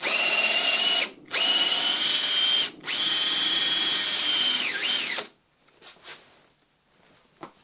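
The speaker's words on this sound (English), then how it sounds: "we don't try and guide the drill bit, we just let that lead screw just pull us right through" Power drill with a lead screw bit boring through the wood of a boat, a loud steady high whine broken by two brief pauses, pitch dipping near the end before the motor stops, then faint knocks.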